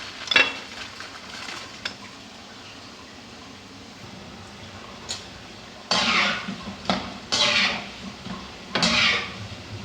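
Broccoli pakoras frying in oil, a steady soft sizzle throughout with louder bursts of crackling and utensil scraping in the second half, close by and with no talking.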